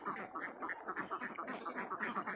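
Egg-laying farm ducks quack in a steady, rhythmic chorus of short nasal calls, several birds overlapping close by with no talk.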